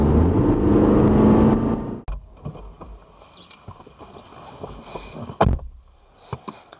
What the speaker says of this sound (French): un moteur 2 litres diesel de 184 chevaux qui a pour principal défaut son bruit